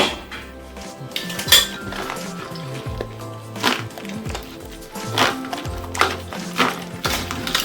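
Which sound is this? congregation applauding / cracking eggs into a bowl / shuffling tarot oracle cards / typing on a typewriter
cracking eggs into a bowl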